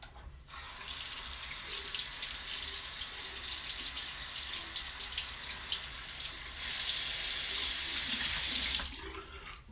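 Tap water runs steadily into a bathroom sink while a razor blade is rinsed during a wet shave, a close hissing splash that swells louder near the end before shutting off.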